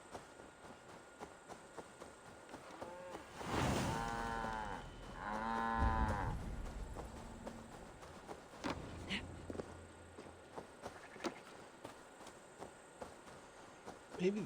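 A cow in Assassin's Creed Valhalla lets out two long, loud, close moos in quick succession, then a fainter low call, with insect buzzing and footsteps in a quiet farmyard ambience.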